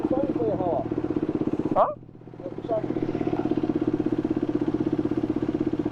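A group of motorcycles rumbling together on a ride, a steady pulsing engine drone with a brief dip midway, heard under a rider's voice over the intercom.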